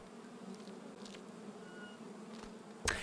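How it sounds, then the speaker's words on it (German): Steady low buzzing of a bee swarm in the indie horror game Precipice, a continuous droning hum heard alone at moderate distance, ending with a brief sharper noise. "Ich höre einen Bienenschwarm"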